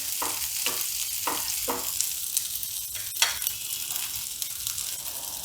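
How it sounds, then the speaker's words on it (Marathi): Ginger-garlic paste sizzles steadily in a pan, with several soft rhythmic scraping stirs early on and a gentle frying hiss underneath, close and fairly quiet, no talking. "आलं लसूण पेस्ट मी छान अशी परतून घेत आहे"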